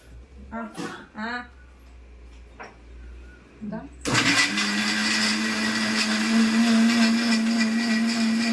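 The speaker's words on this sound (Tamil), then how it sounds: "மிக்ஸி போட்டுட பார்த்து." A few words of speech, then a mixer grinder whirs on loudly and runs in a steady high-pitched grinding drone.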